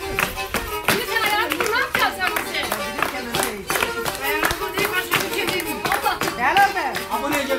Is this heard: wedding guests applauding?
yes